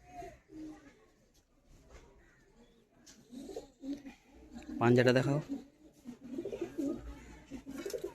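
Madrasi pigeons coo in a loud, close burst of throaty calls while someone speaks Bengali over scattered softer bird sounds.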